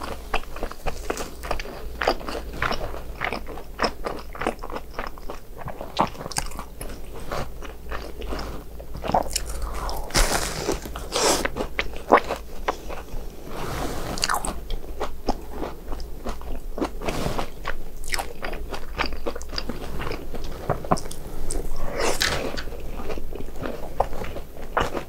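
Crunchy BHC Bburinkle cheese balls being bitten and chewed up close, with steady loud crunching and biting sounds repeating throughout without talk.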